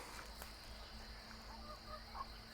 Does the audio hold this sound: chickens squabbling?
yes